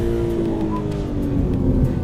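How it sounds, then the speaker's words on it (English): Steady, loud engine drone heard from inside a car with paddle shifters and orange brake calipers as it drives off, a continuous low rumble with no talking. "let's hop in and let's drive"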